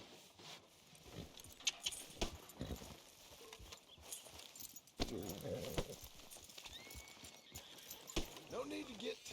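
Horse hooves clip-clop in Red Dead Redemption 2 on a town street, a steady plodding rhythm of close, moderately loud hoofbeats continuing under intermittent dialogue and background town ambience.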